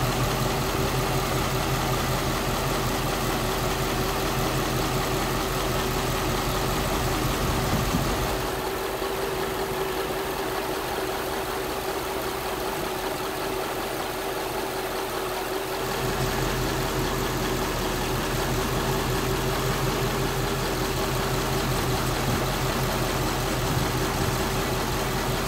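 Mercedes W211 E55 AMG engine idling roughly, a steady rumble whose tone shifts and dips midway as the revs rise and fall, heard alone without talk.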